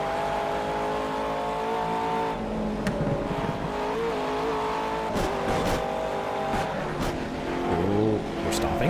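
A GT4-class race car in the Project CARS racing game, its engine droning and shifting pitch through gears, loud and steady throughout with brief tire noise and changes as it accelerates.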